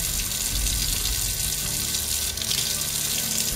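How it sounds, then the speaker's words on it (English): Tap water runs steadily into a sink over a small miniature figure being stripped of paint, a constant close hiss and splash with no talking. "Just running the water over her"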